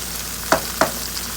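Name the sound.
habanero salsa ingredients frying and being stirred in pan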